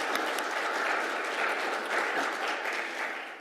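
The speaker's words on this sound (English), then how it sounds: "why don't we give ourselves a round of applause?" Steady applause from an audience at a university planning and public affairs school's 60th anniversary event, dense and even throughout with no talking.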